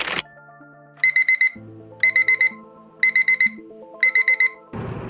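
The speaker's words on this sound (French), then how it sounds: "À 5h du matin, le réveil sonne." An alarm clock goes off at 5 a.m., playing a loud melodic chime in four repeated phrases, each capped by a cluster of rapid beeps, before a burst of noise cuts it off.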